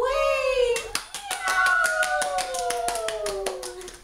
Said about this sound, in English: She clapped to frighten the cat away.